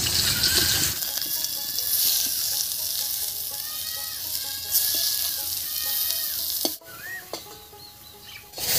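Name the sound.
eggplant pieces frying in mustard oil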